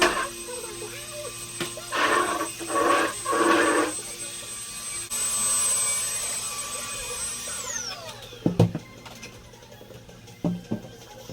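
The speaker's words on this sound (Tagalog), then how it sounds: "mag-vacuum muna tayo." A household vacuum cleaner used during home cleaning gives a steady motor hum that winds down in pitch as it shuts off, then a few clicks follow. A voice talks briefly beforehand.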